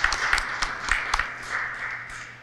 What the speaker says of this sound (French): que je vous demande d'applaudir beaucoup